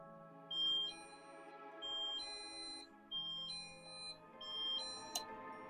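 A paranormal-investigation motion sensor alarm set to chime mode plays a repeated electronic tone pattern, several bright beeping notes in sequence over a steady hum, with a sharp click near the end.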